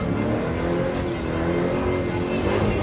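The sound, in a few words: American muscle car engine revving at dragstrip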